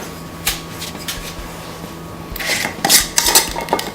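Sand is stirred and scraped around inside a container for starting carrot seeds, with scattered gritty scrapes early on and then a denser run of rough, rattling strokes over a faint steady hum.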